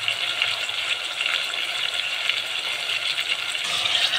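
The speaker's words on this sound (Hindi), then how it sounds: "हमें मसाला अच्छी तरह से भून लेना है, फ्राई कर लेना है।" Masala spices frying in a pan, a steady broad sizzling hiss held close and continuous throughout with no talk.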